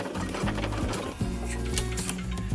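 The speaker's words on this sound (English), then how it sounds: "Back stitch a little bit and forward stitch a little bit to secure that in place." A sewing machine stitches fabric for a kid-friendly bookmark, back-stitching and then forward-stitching in short mechanical bursts with a rhythmic whirring hum, close and alone.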